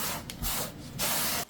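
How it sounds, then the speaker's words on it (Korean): Rice wine is sprayed from a spray bottle onto dried pollock in two or three short, close hissing bursts with brief pauses between, no talking. "여기에 청주를 스프레이 해줘요."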